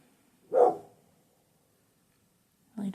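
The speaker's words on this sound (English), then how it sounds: "really don't know what he's barking at" A dog gives one sharp bark close by, then silence, then another short bark burst near the end, with no one talking.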